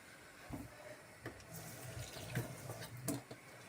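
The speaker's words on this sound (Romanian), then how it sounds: "O să pun un pic de apă." A small amount of water poured into a bowl with a beaten egg while preparing a lunch dish, a few brief trickling splashes at close range over quiet kitchen background.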